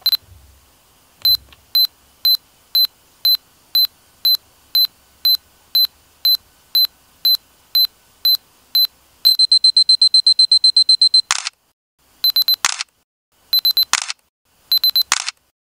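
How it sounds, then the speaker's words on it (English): A Canon PowerShot SX260 self-timer set to ten seconds and three shots, sounding evenly spaced sharp beeps, then a rapid string of quicker beeps, followed by three crisp shutter clicks in quick succession, close and clear with no talking. "it will count down to 10 seconds, then take 3 consecutive shots rapidly one after another"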